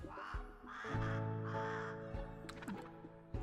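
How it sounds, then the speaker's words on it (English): A crow caws three times in an indie video game, drawn-out and fairly loud over a steady musical background, followed by a few lighter chirps. "Crowing sound."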